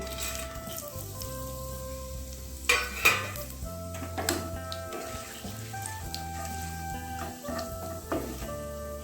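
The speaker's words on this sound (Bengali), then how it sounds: "মশলাটা আমার ভাজা হয়ে গেছে" Spices frying in hot oil in a wok while preparing egg kurma, with a steady sizzle under repeated scraping and clinking of a metal spoon against the pan, no voices.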